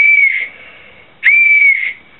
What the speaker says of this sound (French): j'ai fait un petit sifflet qui me permet, en cas de nécessité, de me signaler.